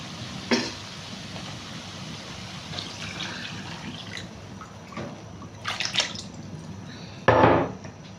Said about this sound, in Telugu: ఇప్పుడు మనం చింతపండు వాటర్ వేసేసుకుందాము